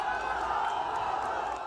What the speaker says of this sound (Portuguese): A vida, aplausos.